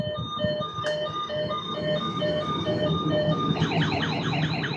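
A toy ice cream cart with opening doors and windows plays its electronic jingle, a bright, repeating beeping melody that shifts into a warbling chime pattern near the end, close and steady over faint background noise, with no talk.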